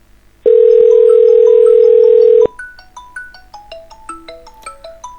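A phone rings on an Asterisk PBX VoIP call, opening with a loud steady two-second tone followed by a quieter run of rising and falling melodic ringtone beeps.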